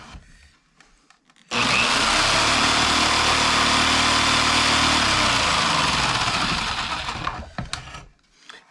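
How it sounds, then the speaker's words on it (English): A jigsaw cuts through wooden window trim in one long, loud, sustained buzz of about six seconds, starting abruptly and tapering off. Quieter handling noises come before and after the cut. "Obviously the skill saw doesn't cut a perfect up and down line through this wood, and that's why I'm using the jigsaw."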